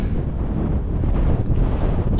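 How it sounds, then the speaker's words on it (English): Strong wind buffets the microphone in a continuous low roar, gusting slightly without pause, at La Ventana, Baja California Sur. "Just got windy all of a sudden."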